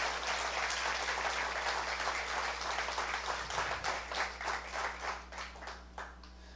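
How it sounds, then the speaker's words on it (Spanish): A church congregation applauds on Easter Sunday, a steady wash of many hands clapping that turns into more distinct separate claps and fades toward the end, with a low hum running underneath. "Denle un fuerte aplauso al Señor."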